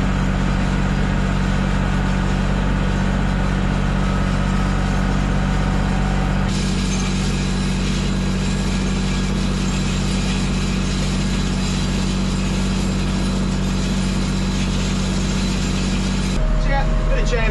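Tractor engine running steadily while pulling chain harrows across a field on a farm, a loud continuous drone that shifts in tone partway through, with no one talking.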